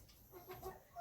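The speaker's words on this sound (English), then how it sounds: "Yeah, we got a rooster too." A rooster on a small hobby farm gives a few soft clucks close by, faint and brief amid quiet farmyard air.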